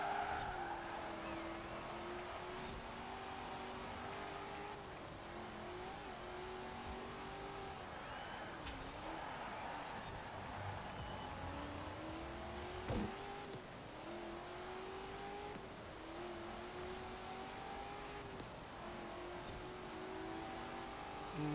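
Race car engines in the video game Forza Horizon, a steady roar with repeated rising revs and gear shifts, faint and continuous throughout.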